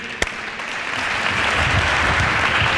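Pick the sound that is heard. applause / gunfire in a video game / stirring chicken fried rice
applause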